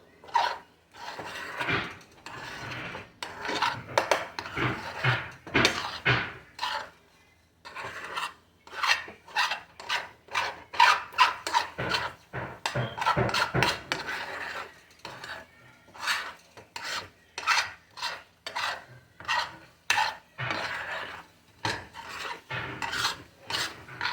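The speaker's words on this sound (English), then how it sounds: "let's start stirring again, y'all. Scraping from the bottom." Scrambled eggs are stirred and scraped from the bottom of a pan in a long run of quick, rhythmic rasping strokes, close and fairly loud, with brief pauses between bursts.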